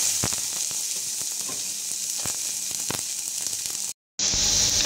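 Onion frying in olive oil makes a steady, close sizzle with scattered pops and crackles, broken by a short gap before the sizzle resumes more strongly.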